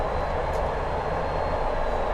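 A Class 205 diesel railcar in a train simulator runs with its engine throttled up, giving a steady, loud rumbling drone with a constant rail roar and no talking.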